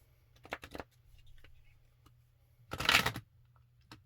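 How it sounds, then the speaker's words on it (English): Tarot cards are shuffled in two quick riffling bursts, close and fairly quiet, separated by near silence and soft handling sounds. "let's get one more good shuffle"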